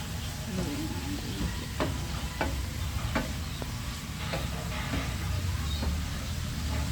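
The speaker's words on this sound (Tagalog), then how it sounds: "Haluin lang natin ng maayos." Bitter melon (ampalaya) being stirred in a frying pan, a steady sizzle with scattered scraping clicks of the utensil against the pan, moderately close and fairly quiet.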